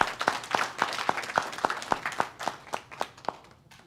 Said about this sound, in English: hand or round of applause to them?